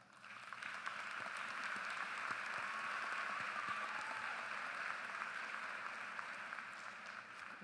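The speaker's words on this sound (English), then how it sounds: "join me in thanking the faculty with a round of applause" Audience applause for college faculty at a commencement ceremony, a steady, dense wash of clapping from a large crowd that swells and holds for several seconds, heard from a distance and fairly faint.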